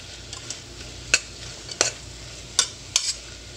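Onions and green chilies fry with salt, giving a low, soft sizzle under a few distinct scraping strokes of a spoon stirring against the pan.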